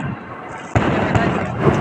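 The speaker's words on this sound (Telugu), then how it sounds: "బాంబుల మూత మోగిపోతుంది." New Year fireworks going off: a sudden sharp bang cuts in over a noisy background, followed by further booming bursts close by.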